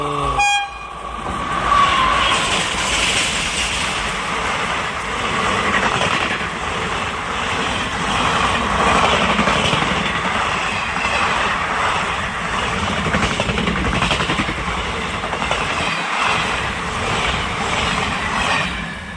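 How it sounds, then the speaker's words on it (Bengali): An express train on the Howrah–Bardhaman chord line roars past close by after a brief horn blast at the start, its loud, steady rumble and wheel noise filling the whole stretch. "এক্সপ্রেস ট্রেন আসছে, ভাগ্য ভালো দেখতে পাচ্ছি এটাকেও"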